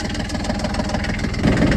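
A cold diesel tractor engine idles close by with a rapid, even chugging rumble that swells slightly near the end.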